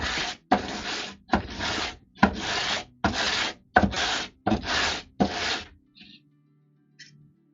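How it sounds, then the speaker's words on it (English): Sanding on a wooden penguin carving, eight rhythmic rasping strokes of steady length repeated close up, then a couple of faint scrapes and quiet handling as the work stops. "sanding on this guy."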